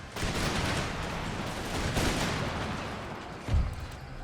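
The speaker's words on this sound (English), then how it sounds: "I will order the generals to fire once more." Musket volleys from line infantry in Empire: Total War, a dense crackling fusillade of many shots merging into a continuous roar, swelling again midway and ending with a sharper nearby burst.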